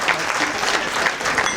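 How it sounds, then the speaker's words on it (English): Audience applause at a stage hypnosis show, volunteers being called up: dense, steady clapping from a room of seated listeners, loud and close, running the whole short stretch without a break. "Go ahead and give them a round of applause."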